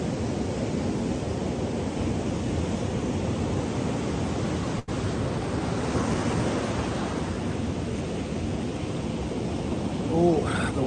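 Steady broadband ocean surf fills the whole span, a continuous wash of waves with constant loudness and a brief dropout near the middle; no voices are heard.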